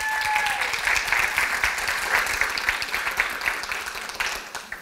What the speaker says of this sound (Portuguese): Você podem aplaudir, né?